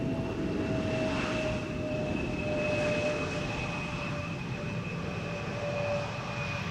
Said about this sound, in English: Embraer 190 arriving from Basel.